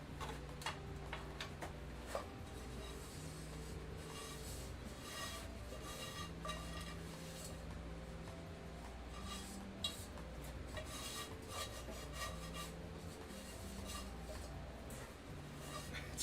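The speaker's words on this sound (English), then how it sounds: "Boil quietly on low heat while stirring" Blueberries and sugar being stirred in a small saucepan over low heat, with faint, quick, steady ticking and scraping of a spoon against the pan running throughout at low volume.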